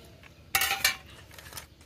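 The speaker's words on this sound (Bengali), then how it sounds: "মাছের সঙ্গে মশলা খুব ভালোভাবে মিশিয়ে নেব।" Mourala fish being mixed with spices in a bowl, heard as a few close clinks and scrapes of utensil against the dish, one louder pair near the middle, then softer rubbing, with no voices.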